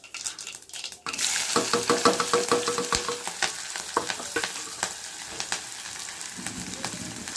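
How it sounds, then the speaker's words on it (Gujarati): Mustard seeds and spices crackle and sizzle in hot oil in a pan, with steady frying hiss and sharp popping bursts beside occasional clinks of a pot, loud and close with no talking. "અહીંયા તેલ મૂકી દીધું છે. આપણે રાઈ નાખી દીધી છે અંદર."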